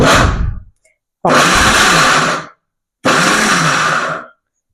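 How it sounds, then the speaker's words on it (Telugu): A mixer grinder runs in short pulses on jackfruit pieces: a fading whir, then two loud bursts of grinding of about a second each, with silent gaps between. "జస్ట్ చూసారు కదా, ఇలా పల్సిస్తే సరిపోతుంది అనమాట."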